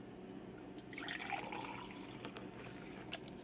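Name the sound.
pouring pine needle tea into a cup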